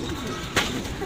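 Pigeons shut in a coop give a short, low coo amid a busy background with a brief rustle partway through.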